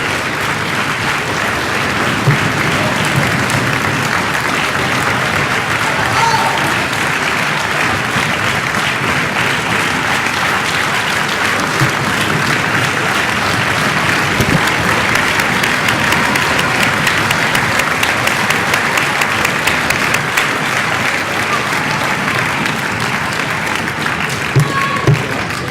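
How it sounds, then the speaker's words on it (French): Sustained applause from an audience at a sports awards evening in Soustons, honouring a pelota world champion; dense, steady clapping from a large crowd fills the room throughout, swelling slightly toward the end. "Et l'applaudir bien fort"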